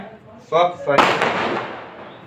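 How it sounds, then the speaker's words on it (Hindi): Firecrackers go off close by with a sudden sharp blast, then a long crackling, hissing burst of smaller pops that tails off. A voice is briefly heard just before. "पटाखे जला रहे हैं यार।"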